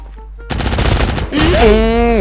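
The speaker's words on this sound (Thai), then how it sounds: "ยิงแบบเนี้ยครับผมยิงแบบเนี้ย" Automatic gunfire from the online shooter Cyber Hunter bursts in after a quiet moment, then a rising electronic tone rings over it; loud and close.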